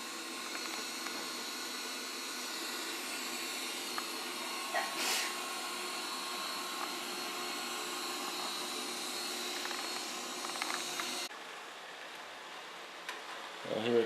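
An Ecovacs Deebot robot vacuum cleaner runs with a steady whirring hum in a room cleared of obstacles, a few light clicks over the drone before it drops quieter near the end.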